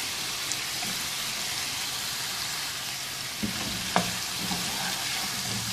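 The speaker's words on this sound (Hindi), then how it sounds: "इसको अच्छी तरह से मिक्स करेंगे और 2-3 मिनट भून लेंगे।" Cubed potatoes stirred and fried in a pan for masala aloo, a steady soft sizzle with a few scraping clinks from the spoon, close and quiet with no talk.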